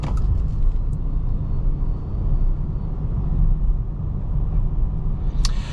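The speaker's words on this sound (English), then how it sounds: "The gasoline engine is actually really, really quiet in this car too" Inside a 2026 Nissan Rogue plug-in hybrid on a back road, a steady low road and engine rumble continues with no voices, the gasoline engine staying subdued under tire and wind noise.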